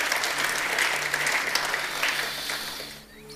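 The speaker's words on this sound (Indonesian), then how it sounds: "Kita beri tepuk tangan untuk kebenaran ini." A church congregation at a Sunday worship service claps together in a steady, dense burst of applause lasting about three seconds before it stops abruptly.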